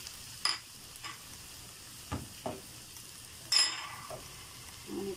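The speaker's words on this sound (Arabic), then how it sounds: "ننزل بالثوم ونحمر" Garlic frying in a pan, a soft low sizzle beneath scattered stirring scrapes and light knocks of a utensil against the pan, close by and fairly quiet.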